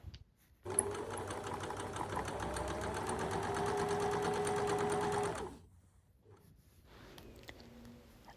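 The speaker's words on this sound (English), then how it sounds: "I'm sewing along the sewn edge of the trim and then a short distance below that again." A sewing machine runs steadily for about five seconds, stitching parallel drawstring channel lines along the trim edge of a cupcake-themed fabric project bag, then stops; a faint quieter mechanical whir follows.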